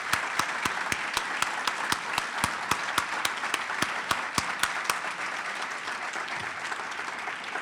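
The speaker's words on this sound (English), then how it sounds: "May we give a round of applause for the Augustana Search Committee." Applause at an introductory press conference for a college president, steady crowd clapping with a few sharp, close claps standing out in a regular rhythm, thinning toward the end.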